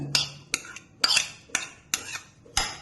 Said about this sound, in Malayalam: അരിഞ്ഞു വെച്ചിട്ടുള്ള ഈ ചെറിയ പച്ചമുളക് ചെറുതാക്കി അരിഞ്ഞത്, തക്കാളി അരിഞ്ഞത്, അതേപോലെ ഈ സവാള അരിഞ്ഞതും ഞാനിതിലേക്ക് ഇട്ട് കൊടുക്കുകയാണ്